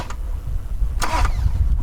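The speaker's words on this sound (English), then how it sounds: "and it cranks the engine" A car engine turns over briefly under its starter, driven through a jumped starter relay, with a short burst of cranking that fades into low idle-like rumble.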